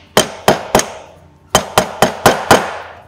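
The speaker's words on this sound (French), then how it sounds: "On prend un maillet ou un marteau, au choix." A mallet strikes a bearing driver to seat a bearing, eight sharp metallic taps close up, three in quick succession, a pause, then five more at an even rhythm.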